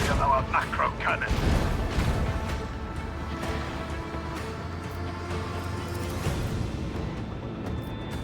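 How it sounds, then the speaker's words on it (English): Macro cannon fire in the Warhammer 40k: Rogue Trader video game, heavy booming artillery blasts with a low rumbling tail under game music and effects, fairly loud throughout. "Show them the fury of our macro cannon."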